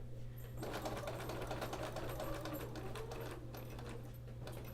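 A sewing machine stitches steadily through a quilt during machine quilting, a close, continuous mechanical whir that runs without a break for several seconds, with no talking.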